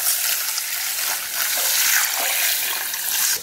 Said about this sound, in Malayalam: ഇനി നമുക്കിത് കുതിരാൻ ആവശ്യത്തിനുള്ള വെള്ളം ഒഴിച്ചു കൊടുക്കാം.